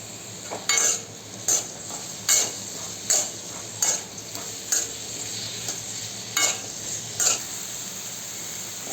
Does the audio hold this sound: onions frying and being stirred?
yes